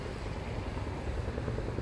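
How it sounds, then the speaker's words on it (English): A military helicopter passes overhead in Norfolk, UK, near US air bases, a steady broadband rotor rumble that stays loud and continuous throughout. "Probably you to see that helicopter, military one."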